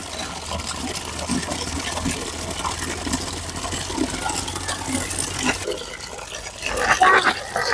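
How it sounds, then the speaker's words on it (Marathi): Water runs into a bucket with a steady splashing rush over a low hum, and the sound grows louder and fuller toward the end. "थांब जरा बकेट भरून लय"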